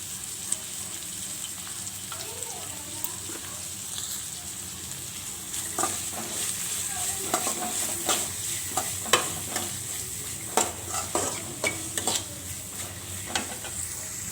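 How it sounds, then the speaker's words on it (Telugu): Onions fry in a pan for a masala black-eyed pea snack, a steady close sizzle running throughout with scattered scrapes and clicks of a spoon stirring, no voices. "ఆనియన్స్ ఇలా బాగా ఫ్రై అయిన తర్వాత"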